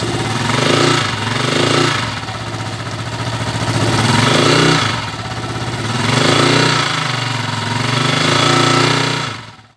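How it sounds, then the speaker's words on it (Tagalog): A rough-running motorcycle engine with loose, damaged threads idles loudly and coarsely nearby, swelling in a few uneven revs and settling back before cutting off at the end. "narinig nyo na yung andar niya kanina, napakagaspang"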